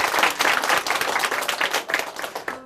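An audience in a church gives warm, hearty applause after a testimony on a Christian TV program, dense clapping from many hands close by that swells and then tapers off near the end.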